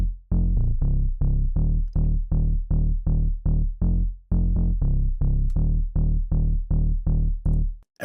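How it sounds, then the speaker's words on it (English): Sobby synth bass built from triangle and sawtooth waves through a low pass filter with drive, a steady run of short plucked notes in a repeating rhythm, upfront and alone. "It's a combination of a triangle wave and sawtooth wave with a low pass filter on it with some drive"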